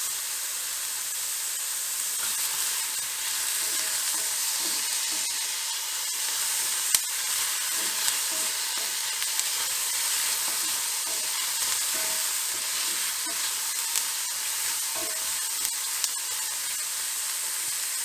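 Tomatoes fry in a pan, giving a steady, even hiss of sizzling that runs without a break, with faint soft squishing and a few small clicks scattered through it.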